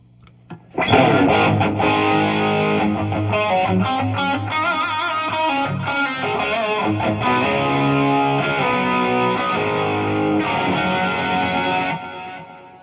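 Electric guitar chords through a JCM800 Studio amp with SD-1W, RV-6 reverb and delay pedals, drenched in reverb and delay, sustained and washy with echoing repeats, played steadily and loudly for about eleven seconds before fading out.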